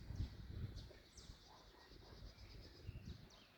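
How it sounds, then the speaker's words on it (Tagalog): Small birds chirping in trees, faint high calls repeating every second or so over a murmuring outdoor background, quiet and distant. "Pakinggan nyo naman ang ibon"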